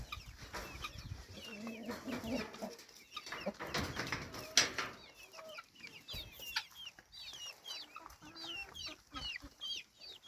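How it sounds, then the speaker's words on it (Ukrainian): Hens clucking in a farmyard, a busy flock giving repeated short clucks and squawks close by, with a voice briefly calling to them. "Курочки. Киш-киш."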